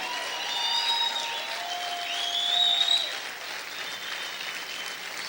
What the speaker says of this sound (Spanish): Aplaude, sigue aplaudiendo fuerte al Señor.